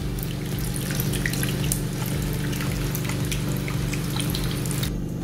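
Tamarind water pours steadily into a rasam pot in a home kitchen, a continuous close splashing trickle with no talking.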